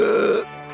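Sophie lets out one loud, drawn-out burp, a deep rumbling belch that fades into a low croak.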